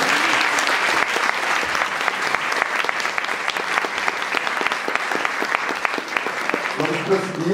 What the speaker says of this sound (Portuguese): queria pedir um aplauso para o Lucas mais uma vez